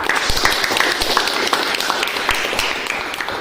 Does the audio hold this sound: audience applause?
yes